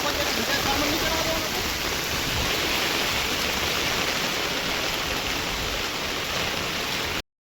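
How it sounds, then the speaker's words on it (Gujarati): Continuous monsoon rain pours down in an even, hissing rush, unbroken and fairly loud, with a faint voice briefly audible early on before cutting off abruptly. "અત્યારે કન્ટિન્યુ વરસાદ ચાલુ છે"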